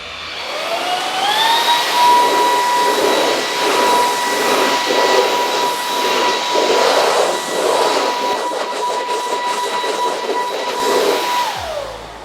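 An Orfeld V20 cordless stick vacuum cleaner spins up to a steady high-pitched whine and airy rush, running loud and close for about ten seconds before cutting off.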